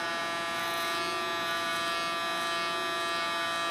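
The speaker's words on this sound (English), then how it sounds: "Using only the tip of my clipper." Electric hair clipper buzzing steadily and up close while its tip trims the sideburns during a short pixie haircut, a continuous even drone with no pauses.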